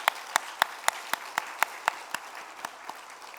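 Congregation at a church youth worship service clapping in a steady, even rhythm, a fairly quiet room with sharp regular claps at a moderate pace.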